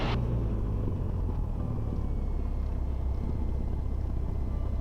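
A light airplane's engine drones at low throttle during a pre-flight run-up, a steady close rumble heard from inside the cockpit with no voices.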